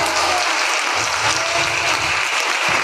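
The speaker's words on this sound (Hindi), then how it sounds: "ताली बजाओ।" A congregation claps steadily together during a Christian prayer service, a dense, continuous wash of applause that holds at an even level throughout with no voices above it.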